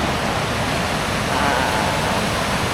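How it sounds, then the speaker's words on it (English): Loud river rapids roar in a dense, steady rush of white water right up close, filling everything without a break. "It's a little too loud there for me with the rapids."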